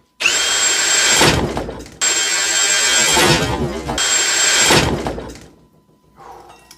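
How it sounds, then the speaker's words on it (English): A Ryobi cordless drill at speed 1, maximum torque setting, driving a holesaw into a wooden plank: three loud whining bursts of cutting separated by brief stops, close up, ending with a quieter trailing rattle. "So we have the Ryobi here and speed 1 at the maximum torque setting, and go."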